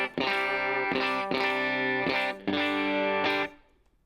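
Electric guitar through an SP Comp compressor set low with the blend just past halfway, into a Vox AC30 amp: a few evenly strummed clean chords, sustained and smooth, ending on a fading ring, with no talking.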